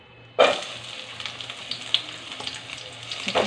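Three large onions frying in about half a ladle of oil for a spicy chicken curry, a bright sizzle starting abruptly and continuing close and steady with occasional stirring scrapes.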